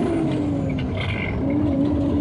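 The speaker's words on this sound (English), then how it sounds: "you just operate the gas to grab the gears" A truck with an Eaton Super 10 transmission running on a highway, its engine droning steadily and dipping slightly in pitch as the gas is worked to grab the next gear, with a brief hiss.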